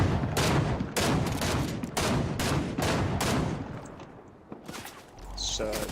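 Rapid bursts of Charge SMG fire in Fortnite, several loud staccato volleys in quick succession that taper off, followed by a brief sharp game sound, with voices talking at times.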